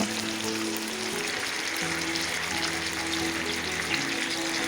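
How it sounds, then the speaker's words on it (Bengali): Chicken pieces fry in hot oil in a pan for a chicken roast, giving a continuous, even sizzle with a low steady hum underneath and no talking. "বাকি তেলটুকুতে আমি মাংসের টুকরোগুলো দিয়ে লাল লাল করে ভেজে নেব।"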